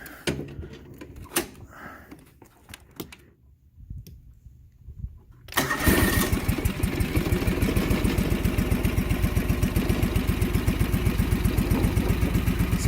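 A John Deere 445 lawn tractor engine with a coil fault, firing on only the left-hand cylinder, cranks and catches after some rattling and a pause. It then settles into a loud, steady, pulsing idle close by.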